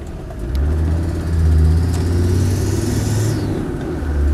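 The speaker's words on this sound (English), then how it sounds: "a very slight tweeting noise from the exhaust on the load" Land Rover Defender 90 TD5 county station wagon engine and exhaust pulling under load, a steady loud mid-pitched drone with a slight whine rising and falling, heard close inside the moving vehicle.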